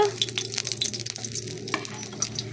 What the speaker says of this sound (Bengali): আর এই মাছটা ভাজা হয়ে গেল